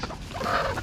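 A brooding hen sitting on a clutch of about fourteen eggs gives a short, close, throaty clucking call, alone with no talk over it.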